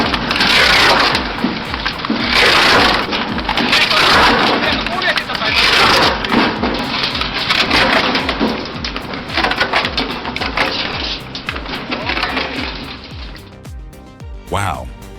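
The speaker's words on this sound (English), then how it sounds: "The combination of a high-speed cone splitter and a mechanical feed system shreds logs effortlessly" A 2-in-1 firewood machine with a high-speed cone splitter and mechanical feed shreds logs, a dense, continuous roar of splintering, cracking wood and grinding machinery that eases off near the end, with a voice talking over it.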